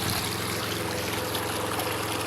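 Water drains fast out of a catfish pond in a steady, loud rushing flow, continuous and close, with no talking over it.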